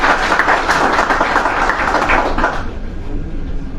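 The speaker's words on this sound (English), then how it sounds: "Give him a big applause." Audience applause at an indoor health event, a dense wash of many hands clapping that holds steady for a few seconds, then thins and fades toward the end.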